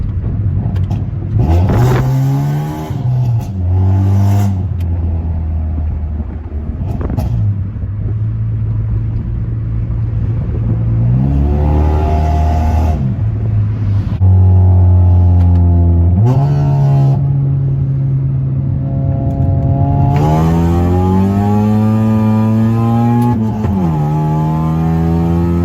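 A tuned Honda Civic with an R18 engine and full bolt-ons revs repeatedly, loud and close, the engine note climbing and falling through several sustained blips with no talk.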